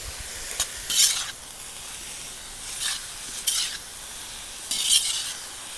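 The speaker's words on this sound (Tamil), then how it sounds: "காயெல்லாம் சேர்த்து நல்லா வதக்கி ஒரு 3/4 வாசி வெந்தால் போதும்." Vegetables for fried rice are sautéed and stirred in a pan, with soft frying sizzle throughout and a few bursts of scraping stirring strokes spaced a second or two apart.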